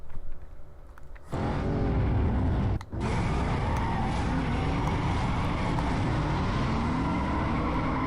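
In a Need for Speed Most Wanted (2005) circuit race, a car engine roars loud and steady, dropping briefly as if shifting gear, then pulling hard again for several seconds.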